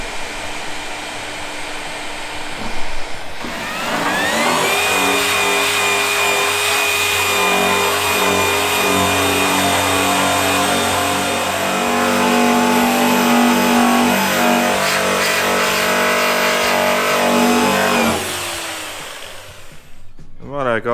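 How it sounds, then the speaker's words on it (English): A strip disc on a grinder whirs loudly and steadily across a Ford car body, taking filler off a rear quarter panel after heat-gun work. It spins up, grinds continuously for about fifteen seconds, then winds down. "finishing off with the strip disc after getting the bulk of it with the heat gun"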